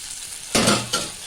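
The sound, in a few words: frying boiled potatoes and taro in a pan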